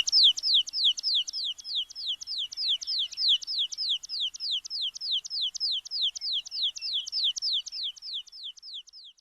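An American pipit calls in a long, steady series of thin, high, sliding notes, repeated at a quick even rhythm, clear and fairly close against silence.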